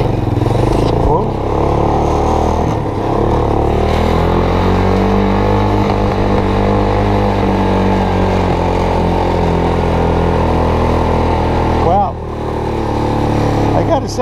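A homemade ATV and golf cart hybrid's engine drones loudly and continuously close by, rising slightly as it is throttled, with a person talking over it.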